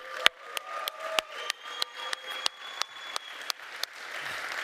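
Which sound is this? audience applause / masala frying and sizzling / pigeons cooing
audience applause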